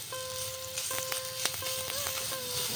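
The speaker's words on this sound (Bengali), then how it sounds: "আলু আর মূলো দুটোই 5 মিনিট মতন ভাজা হয়েছে" Potatoes and radish fry in a pan for a Bengali radish and prawn ghonto, giving a steady, even sizzle with occasional light taps and stirs throughout.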